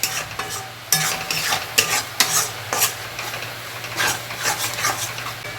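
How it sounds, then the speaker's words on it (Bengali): Prawn bhuna masala being stir-fried in a pan, sizzling steadily with repeated spoon scrapes and stirring strokes against the metal, close and fairly loud, with no voices. "আবারও কষে নেব মশলাটাকে সুন্দর করে।"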